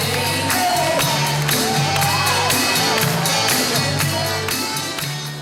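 A crowd cheers and whoops loudly and steadily at a wheelchair dance competition in a stadium, right after a cha-cha-cha routine, with excited shouts rising over the roar before it slowly fades near the end.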